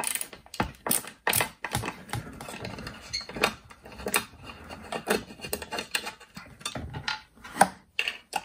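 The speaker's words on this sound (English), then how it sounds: "So I'm going to take these two screws out." A screwdriver works screws out of a Toyota Celica headlight housing, making irregular close clicks and ratcheting ticks with short scraping bursts between brief pauses, with no voices.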